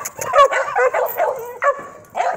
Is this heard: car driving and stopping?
no